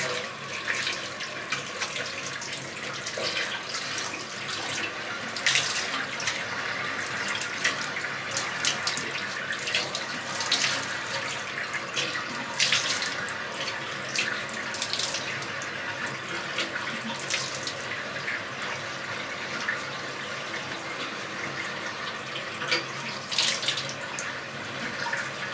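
Lukewarm tap water runs steadily into a sink while someone rinses their face, with splashes and brief bursts breaking through the constant flow.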